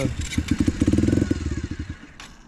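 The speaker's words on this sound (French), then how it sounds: "c'est un joli petit monocylindre, double arbre à cam, 4 soupapes qui chante plutôt bien" A small Bulite 50cc single-cylinder, double-overhead-cam four-valve motorcycle engine starts and runs, its rapid put-put firing pulses close and fairly loud, revving briefly before easing off.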